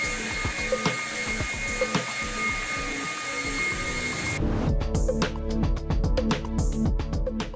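A blower roars steadily while clearing loose chips off an epoxy garage floor, shifting partway through to a louder, rougher tone with rapid rattling pulses as debris scatters.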